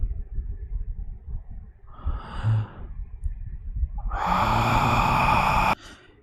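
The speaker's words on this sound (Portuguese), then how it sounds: "Por que eu tô bocejando tanto?" A long, breathy yawn with a drawn-out voiced exhale that swells and then stops abruptly, following a softer breath, heard close and alone.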